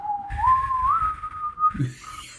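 A single person whistles a long, wavering tune that climbs and settles, imitating the ominous little whistle from a movie that signals something bad is about to happen; it is close and clear, with low rumbling background noise.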